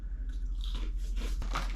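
Arnott's barbecue Shapes crackers crunched between the teeth, several close, crisp bites and chews over a low steady hum, no speech.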